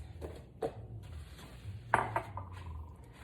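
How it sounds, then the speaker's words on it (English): Dishes clink and knock as a bowl is pulled from among them in a kitchen, a handful of light ceramic taps and scrapes spaced irregularly at moderate closeness. "grab me a bowl so I can scramble up my lovelies"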